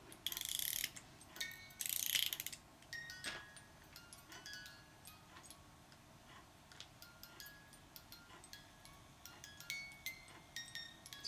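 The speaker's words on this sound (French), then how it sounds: "c'est le mécanisme pour transformer une boîte, toute bête, en boîte à musique" A small music box mechanism is cranked by hand, its ratchet clicking and ticking as faint chime notes ring out, starting with a couple of brisk winding bursts and then settling into soft, scattered plucked tones.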